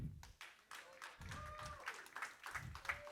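Church congregation clapping for the King during a Spanish-language worship service, a steady wash of hand claps filling the room, with voices and cheers mixed in throughout.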